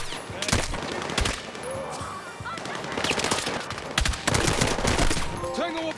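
Rapid gunfire from a DMR rifle landing headshots in a Battlefield 6 mission, loud bursts of sharp shots in irregular clusters over game ambience.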